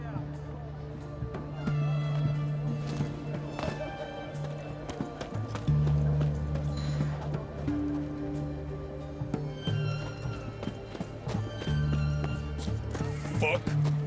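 Geralt's horse Roach gallops in The Witcher 3, with steady rhythmic hoofbeats in repeated bursts and a brief whinny; voices talk over the hooves at times.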